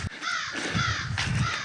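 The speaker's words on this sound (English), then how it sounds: "Hearing a crow just a moment ago above in the trees" A crow caws from the trees overhead, giving several harsh, rasping calls in quick succession, fairly close and clear with no talking.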